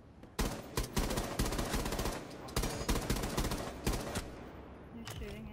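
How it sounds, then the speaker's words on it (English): Gunfire is exchanged in the video game Rainbow Six Siege, with rapid automatic bursts and sharp shots coming in repeated clusters, fairly loud and close, separated by short gaps. "They're shooting at each other."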